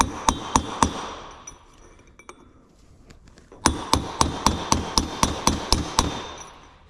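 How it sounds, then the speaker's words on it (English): Sharp metallic hammer blows ring out in steady, evenly spaced strikes, a few at first, a pause with light tapping, then a longer rapid run of hits, hammering out a front wheel bearing on a Nissan 300ZX Z31. "So just hammer away."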